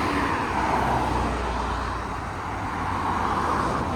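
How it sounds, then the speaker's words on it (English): Line of road traffic on the A17 bypass held up behind a combine harvester, a steady low rumble of idling and slowly moving vehicles heard close by. "we've got a whole line of traffic behind us"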